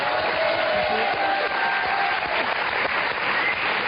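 Dense, sustained applause from a studio audience on a French TV show, greeting an inventor seated among the crowd; the clapping stays loud and steady throughout.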